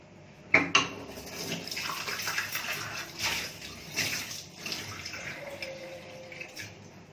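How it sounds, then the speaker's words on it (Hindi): Water poured into a pan of vegetables frying on the stove with salt, giving a continuous splashing, hissing wash after a sharp clink at the start, close and moderately loud with no talking. "पानी लेके डालती हूँ अभी।"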